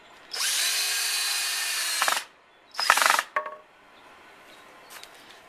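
A power drill drives a 2.5 inch screw into a 2x4 board, with a long steady whir, a short second burst, then a brief ratcheting clatter, all close and loud with no talking.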